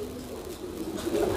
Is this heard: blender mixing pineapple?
no